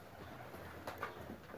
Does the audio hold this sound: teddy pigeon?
yes